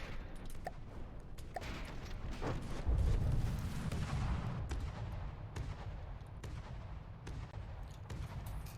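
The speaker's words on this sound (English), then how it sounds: "More torpedo hits though." Torpedoes strike a warship in a naval video game, giving a string of muffled booms and crackling impacts, with a heavier, deeper blast near the middle over continuous distant rumbling.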